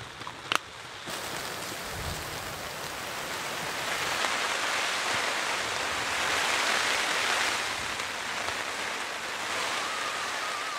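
Steady rain falls outdoors, a broad continuous hiss of drops on surfaces that swells slightly midway, with one sharp knock near the start and no voices.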